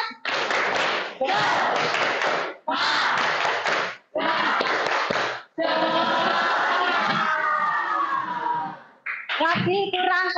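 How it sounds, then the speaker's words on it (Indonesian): A classroom group performs a rhythmic tepuk semangat clapping chant: four loud bursts of fast massed clapping separated by short pauses, then voices chanting together, followed by a brief final clap pattern. "kita tepuk lagi ya"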